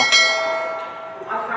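An electronic aarti machine at Triloki Nath Dham temple in Shahjahanpur, fitted with a large bell, rings bright metallic bell tones with a sharp strike near the start and sustained ringing that fades, then swells again.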